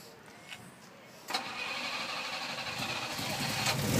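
Fiat Dino with an all-aluminium six-cylinder engine firing up after a quiet start, catching with a sharp burst and then settling into a steady, building idle close by.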